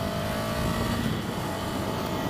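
Ducati Scrambler Desert Sled with an 803cc engine accelerates up a highway entrance, giving a steady, loud engine roar mixed with rushing wind noise and no talking.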